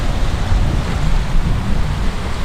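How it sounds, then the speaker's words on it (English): East China Sea waves wash in a steady, rushing surf in Japan, mixed with gusty wind buffeting the microphone, with no voices present. "Beautiful East China Sea."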